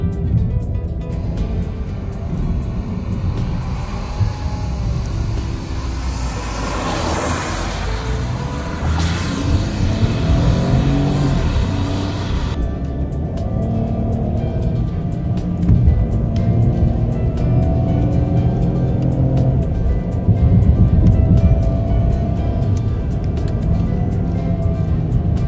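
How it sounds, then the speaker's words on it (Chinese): An Opel Astra engine in Sport mode with manual shifting hums and revs from inside the cabin, its pitch rising and falling through gear changes with blips on downshifts, steady and fairly loud. "显然呢，它这个退档是会补油的哦"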